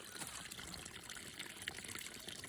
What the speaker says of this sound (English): Okay, so now we're filling up the pond right now.